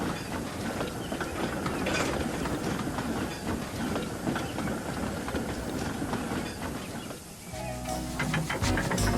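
A train in a Trainz simulation departs, rumbling along the rails with a dense, steady clatter of wheels and mechanical rattling, loud and continuous throughout.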